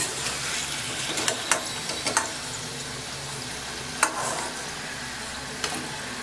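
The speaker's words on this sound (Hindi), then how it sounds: "दूसरी तरफ से भी हल्की आंच से ऐसे ही फ्राई होने देंगे" Moong dal kachoris fry over a low flame in a kadhai, giving a steady, even sizzle with occasional sharp clicks of a slotted spoon against the metal and no talk.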